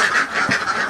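Laying ducks in a pen, some in moult and no longer laying eggs, quack in a steady, overlapping chorus of repeated nasal calls, close and fairly loud, with no talking.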